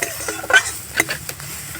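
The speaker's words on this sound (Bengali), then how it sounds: "সবজিটা ভালো করে কষিয়ে নেব নাড়াচাড়া করে" Vegetables with spices being stirred in a pan for a semolina sandwich filling: a soft sizzle under close, irregular scrapes and clinks of a spoon against the pan, in short bursts.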